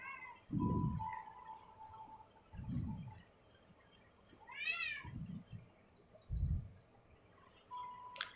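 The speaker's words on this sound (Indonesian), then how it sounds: "kalau kamu dengar suara kucing aku, dia itu ribut karena dia lagi sibuk mau kawin" A restless cat in heat meows and caterwauls in four loud, drawn-out calls spaced a couple of seconds apart, with faint dripping water and a steady tone in the background.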